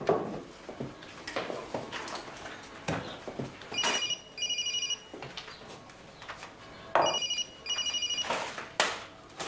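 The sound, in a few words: telephone ringing, unanswered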